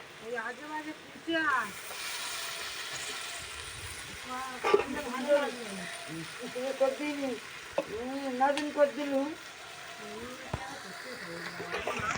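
Meat curry with potatoes being sautéed and stirred in a pan, a steady sizzle broken by spatula scrapes, with someone talking over the cooking.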